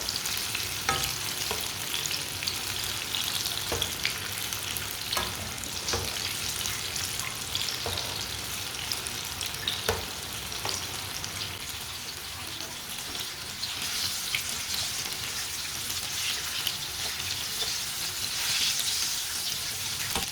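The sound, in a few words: potato pakoras frying in oil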